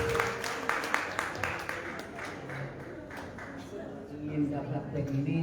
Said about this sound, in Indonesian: Aplaus untuk